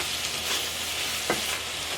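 A Philly cheese steak sloppy joe mixture simmers and sizzles in a pan with a steady, soft hiss, broken by one brief scrape or stir near the end.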